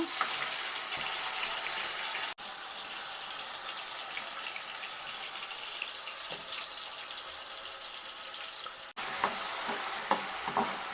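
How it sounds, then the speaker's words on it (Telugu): Mustard seeds splutter in hot oil for a fish curry. A continuous hiss is dotted with faint crackles, and it breaks off briefly twice in sharp cuts, with no talking. "నెక్స్ట్ కొద్దిగా ఆవాలు వేస్తున్నాను. ఆవాలు చిట్లిన తర్వాత నేను పేస్ట్ పట్టుకున్నది అయితే వేసి వాడుకుంటున్నాను"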